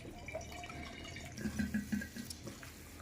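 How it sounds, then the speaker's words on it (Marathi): Cold water pours over boiled noodles sitting in a strainer, a soft, quiet trickle and splash with a few brief gurgling bursts midway. No voices are heard. "यावरती डायरेक्ट आपल्याला थंड पाणी टाकून घ्यायचं व्यवस्थित"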